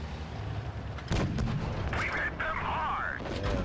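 A tank gun fires a kill shot in World of Tanks Blitz, with a British Vickers Light 105 tier-ten light tank in play, a sharp loud boom near one second followed by rumbling battle noise and other effects.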